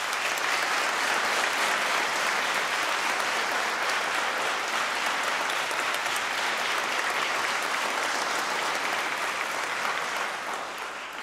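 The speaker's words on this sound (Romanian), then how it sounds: "Vă rog să-i aplaudați!" An audience at a reunion of neo-Protestant brass bands in Arad applauds the musicians with a steady, full wash of clapping that continues throughout and tapers slightly at the close.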